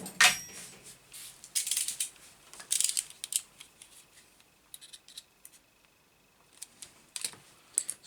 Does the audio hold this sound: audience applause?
no